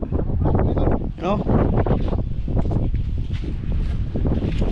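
Strong northeast monsoon wind buffets the microphone at sea, a loud continuous roar with gusty rumble throughout, while someone speaks over it.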